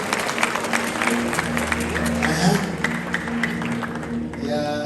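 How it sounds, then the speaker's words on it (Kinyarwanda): A wedding congregation applauds after the couple's vows, with moderate clapping spread across the room beneath a voice talking over it, thinning out toward the end. "Amashyi menshi"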